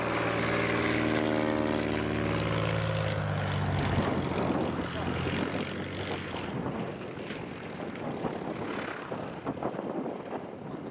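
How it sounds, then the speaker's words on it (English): A propeller plane approaches a gravel bar to pick up gear, its engine drone loud and close, the pitch shifting as it arrives, with wind noise and some talking. "here's all our gear on the gravel bar, waiting for the plane to come get us"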